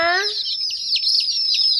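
Newly bought chicks chirping close by, a dense run of high peeping calls, with a brief voice at the start.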